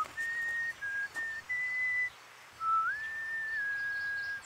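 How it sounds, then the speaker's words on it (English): A person whistles a short, tuneful melody in a park, clear sustained notes with brief pauses, fairly close and alone over faint background hiss. "I walked across to the park and started to whistle"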